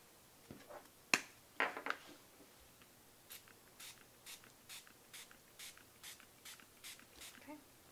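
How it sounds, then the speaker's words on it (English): Tattered Angels Glimmer Mist in Tiger Lily is sprayed onto a masked paper tag in a row of about a dozen short, sharp pumps at an even pace, following a few clicks and taps at the start. "So we're going to actually spray the tag with the Tattered Angels Glimmer Mist and Tiger Lily."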